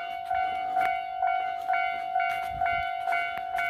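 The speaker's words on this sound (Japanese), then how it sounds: "踏切でございます。 すでに鳴動中です。" A railroad crossing signal on the JR Ou Line in Japan rings steadily with evenly spaced electronic dings, about two per second. It is heard from nearby, fairly quiet, with no voices over it.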